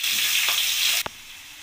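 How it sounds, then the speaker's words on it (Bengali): New potatoes frying in oil with salt and turmeric for a chicken curry, giving a loud, steady hiss that stops abruptly near the end, followed by a single soft clunk and quiet. "এবার আমি ভালো করে লাল লাল করে আলুটাকে ভেজে নেব"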